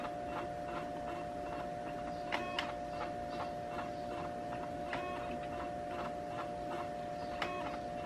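A failing CD-ROM drive in an HP Beats Special Edition laptop makes faint, irregular ticking clicks over a steady electronic hum, with a few sharper clicks standing out.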